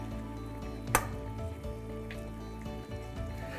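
Pork chops with capers, olives, garlic and wine reduce in a pan, giving a steady low sizzle and bubble throughout, with one sharp clink near the start.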